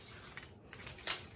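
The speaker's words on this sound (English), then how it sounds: "Turn the paper, not so much the scissors." Scissors snipping through paper during a paper sculpture craft, a few soft, quiet cuts heard close up with no talking.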